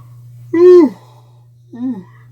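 Two voiced, drawn-out exhalations, the first long and rising then falling, the second shorter, over a low steady hum, like a person yawning.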